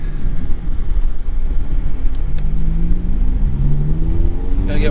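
A Ferrari F430 engine drones loud and close while driving, with a low rumble and rising tones as the revs climb, under steady wind buffeting.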